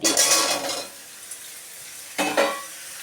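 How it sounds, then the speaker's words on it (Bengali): Mango pieces stirred in a pan of hot oil with panch phoron, loud sizzling bursts with spoon scrapes at the start and again near the end, quieter frying between. "ভালো করে একটু নাড়াচাড়া করে নেব"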